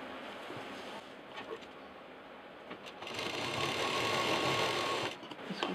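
A sewing machine stitches a fabric bag belt, a steady buzzing run that grows louder and faster midway before easing off, heard alone without talk.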